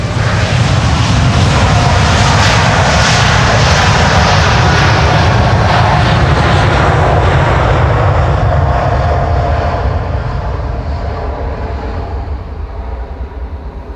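A KLM Boeing 747 jet roars down the Polderbaan runway at Schiphol on departure, a loud, continuous broadband engine rumble and whine that holds steady and then slowly fades as it moves away.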